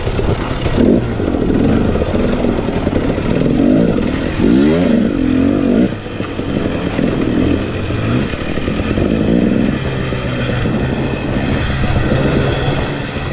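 A dirt bike engine revs loudly and continuously while being ridden, its pitch sweeping up and down with throttle changes over steady wind and road noise.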